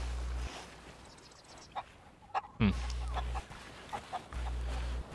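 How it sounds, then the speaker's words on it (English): Chickens clucking in the pirate game Sea of Thieves, scattered short clucks and squawks near and far over a steady low hum that cuts in and out, with a voice speaking briefly. "I need a golden chicken."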